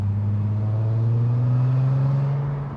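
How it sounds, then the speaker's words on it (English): An Audi TT's 3.2 V6 engine drones loud and close in a smooth, sustained rev, rising slightly in pitch for a few seconds with no talking. "listen to that V6"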